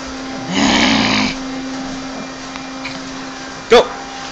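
A Pomeranian dog lets out a raspy, growling vocal imitation of Marge Simpson's voice, a single drawn-out groan lasting under a second, followed by a brief sharp yelp or bark.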